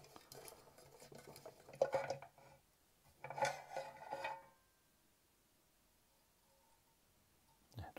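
The lid of an OWC Express 4M2 enclosure being opened, with short metallic scraping and rattling handling sounds in two close bursts, then near silence and a final faint click.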